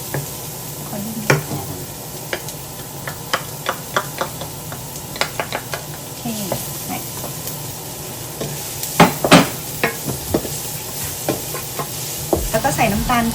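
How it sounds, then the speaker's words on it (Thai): Garlic and shallots stir-fried in a pan, with a spatula scraping and knocking the pan in irregular strokes over a steady sizzle, close and moderately loud, with no talk. "เอากระเทียมกับหัวหอมแดงลงไปผัด"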